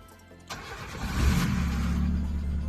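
A car engine cranks and catches after a short quiet spell, then settles into a steady, moderately loud idle rumble nearby.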